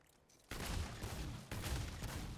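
Two heavy gunshots about a second apart from a weapon-swap shooting build in the video game Remnant 2, each one a loud, full blast with a long, noisy tail.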